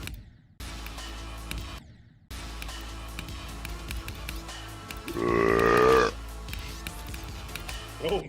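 A single loud, drawn-out burp rises briefly, set against a quiet room with faint background sounds and brief dropouts.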